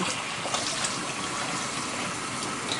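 Running water rinses raw pork chops, a steady close rush of water like a tap or gush over meat, continuous and fairly loud with no talking.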